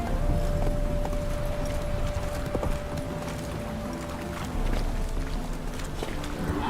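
Roach, a horse in The Witcher 3, trots in a steady clip-clop of hooves over a continuous ambient bed, close and clear with no talk.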